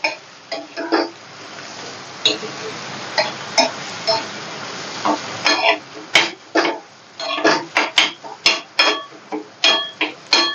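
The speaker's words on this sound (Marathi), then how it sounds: "मी मस्त मिक्स करायचं" Fish curry ingredients with sun-dried homemade kokum being mixed in a pan with a spoon, giving a run of close clinking, scraping knocks in uneven bursts that grow busier and sharper toward the end.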